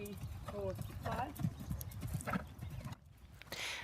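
A horse canters, its hoofbeats thudding in a steady rhythmic clip-clop, close and moderately loud, with a brief whinny-like tone and voices talking over it.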